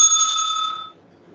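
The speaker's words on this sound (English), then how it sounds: "The bell will be ringing once." A single bright ring of a timekeeper's bell at a debate, sustained and clear, fading out after about a second, alone with no voices.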